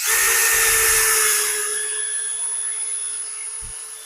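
A Grosser GCD 161KBT cordless drill whines at high speed up close, winding down as the screw seats, followed by a short pause and a quick final burst.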